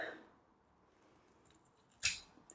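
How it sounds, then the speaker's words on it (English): A single crisp snip of scissors cutting a leaf off an Alocasia houseplant during repotting, one short sharp cut near the end of a quiet stretch after some faint handling sounds. "First, I'm going to cut off this leaf."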